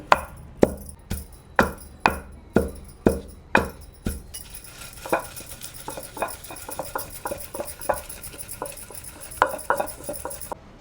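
Rock salt being crushed into a fine powder for a village-style Andhra gongura pickle: about eight sharp, evenly spaced pounding thuds, then a quicker, lighter clatter of crushing and grinding. The sound is close and loud, with no voices.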